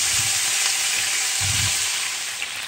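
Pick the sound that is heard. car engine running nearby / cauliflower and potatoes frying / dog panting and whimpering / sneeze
cauliflower and potatoes frying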